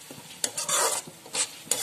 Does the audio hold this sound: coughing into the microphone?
no